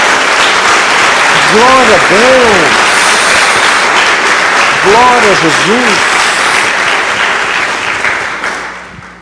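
Loud, steady applause from a church congregation, continuous clapping that fades near the end, with a voice calling out praise over it twice.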